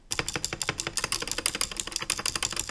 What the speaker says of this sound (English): Here is how the spacebar on my old keyboard rattles.